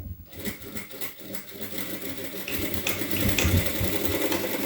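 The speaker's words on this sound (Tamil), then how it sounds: "ஸோ இப்போ நான் தையல் போட்டுட்டேன்." A sewing machine stitches blouse fabric with a steady, close mechanical whir and rapid needle chatter. It runs continuously and grows slightly louder toward the end, with no voices.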